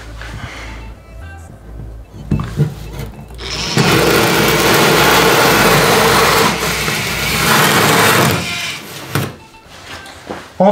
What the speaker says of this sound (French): Donc on fait un trou à la scie cloche.